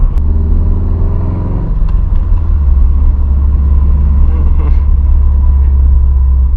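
Subaru WRX STI all-wheel-drive car driving on back roads, its engine a steady loud low rumble from inside the cabin, with a brief rise in engine note early on before settling into a constant drone.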